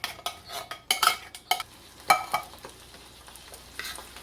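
Cream of celery and cream of mushroom soup being stirred into a Chinese casserole mix, a spoon scraping and clinking against the bowl in irregular bursts, close and moderately loud, with no talk.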